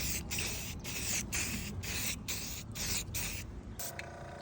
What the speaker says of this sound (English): We're going to primer it up here with some can primer